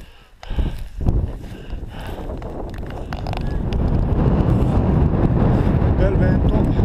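Strong wind on the Passo della Bocchetta mountain pass in Italy buffets the microphone in a loud, continuous roar that builds and stays heavy throughout, with gusty low rumbling.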